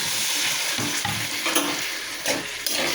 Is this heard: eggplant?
yes